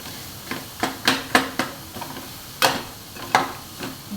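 Jaggery stirred and roasted in a pan for modak filling, heard as a series of sharp, irregular scraping and tapping strokes of a spoon against the pan, fairly close and moderately loud, with no talking.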